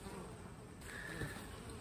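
Honeybees buzzing around a beehive during a first honey extraction, a steady soft hum of many insects throughout, with no talking.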